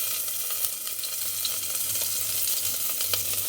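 Green chillies sizzle in oil in a pressure cooker, a dense bright crackling hiss that holds steady and close throughout with small pops, and no voice.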